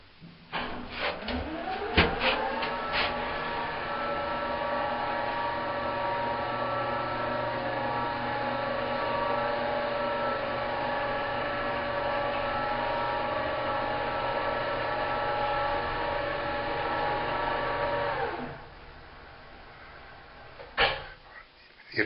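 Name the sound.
home elevator running between floors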